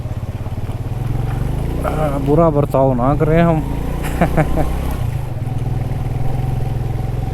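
A motorcycle grinds along a rough mountain track in Shigar Valley near Skardu, Pakistan, its engine droning steadily close by and rising and falling with the terrain while someone speaks over it.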